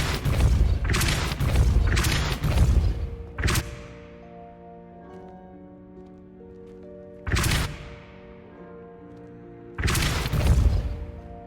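The Depulso spell in Hogwarts Legacy fires heavy, booming blasts: a quick cluster of loud impacts, then two more separated bursts, with a soft ringing tonal hum filling the gaps between them.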